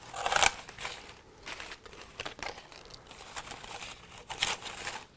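Greenery being cut and handled for a floral arrangement: close crinkling rustles with several sharp crackling snips, the loudest near the start and another near the end, with no talk.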